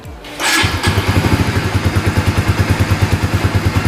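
A stock GTR Supra 150 motorcycle engine starts up and settles into a loud, close idle with a rapid, even putting pulse.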